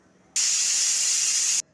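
A pressure cooker cooking horse gram lets out one loud, sharp hiss of escaping steam that lasts just over a second and stops abruptly, close by, with no talk.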